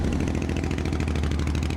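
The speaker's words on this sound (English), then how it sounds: "Modified exhaust pipes that make a motorcycle louder than 92 decibels, for example, would get a ticket." A motorcycle with a loud modified exhaust runs with a deep, throbbing, rapid engine pulse, close and loud, steady over the short stretch with no talking.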